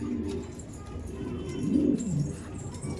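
Loft pigeons coo nearby in low, throaty rolls, one swelling call building toward the middle and tailing off, over a faint background of rustling and shuffling.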